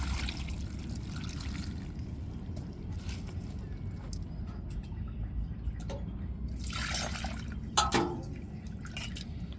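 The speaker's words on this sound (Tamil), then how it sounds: "அப்போ நம்ம தேங்காய் அரைச்சி கழுவி வச்சுருக்க தண்ணியை இப்போ சேர்த்துக்கிடுவோம்" Water saved from rinsing ground coconut is poured into a pot of vegetables for egg kuzhambu: a close, steady trickle and dripping with brief splashy bursts, the loudest near the end, and no voices.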